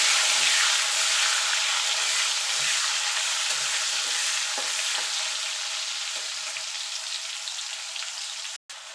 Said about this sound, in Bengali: একটুখানি ভাজা ভাজা করে নেবো